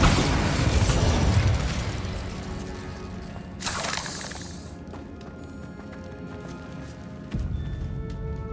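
Spell blasts from Incendio and Bombarda in Hogwarts Legacy arrive as a loud rushing burst that fades, then a hissing flare, a dull thump and a sharp impact near the end, with clattering game noise and no talk.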